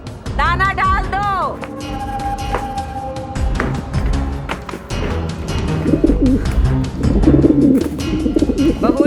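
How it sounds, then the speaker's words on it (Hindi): Pigeons coo and warble close by amid a busy household, with voices talking, clattering taps and other bird calls mixed throughout. "कबूतर भूख के मारे गुटर गुटर कर रहे हैं"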